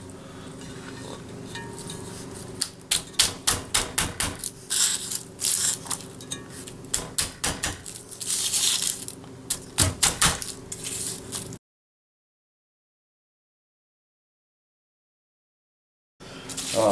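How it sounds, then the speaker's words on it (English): Garlic cloves smashed and chopped with a knife on a cutting board, a series of sharp, close thuds and taps in irregular bursts, followed by a stretch of silence. "for the garlic, I like to smash it down with my knife like this"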